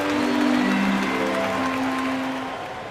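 Crowd applause swells in an e-basketball video game match, a broad wash of cheering and clapping from a virtual arena crowd, loud and sustained before fading slightly at the end.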